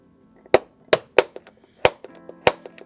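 Sharp metal punch strikes on a Sprinter van floor before drilling, about six loud hits in an irregular rhythm with fainter taps between, close and without speech.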